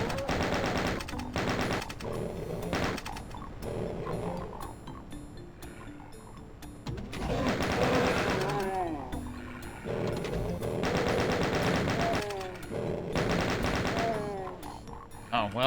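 Video game gunfire in Doom (Crispy Doom), loud repeated bursts and single shots mixed with monster growls and mechanical clanks, loud and busy throughout.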